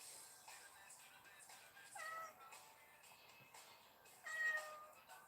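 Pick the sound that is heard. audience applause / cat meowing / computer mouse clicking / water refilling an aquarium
cat meowing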